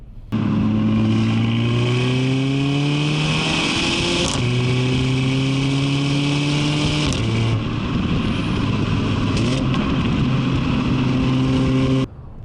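A Mercedes CLA45 AMG engine pulls hard through the gears, its rising drone dropping at each shift before climbing again, loud and close throughout.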